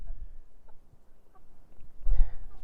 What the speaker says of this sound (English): hello birds, and they keep following me thinking I've got food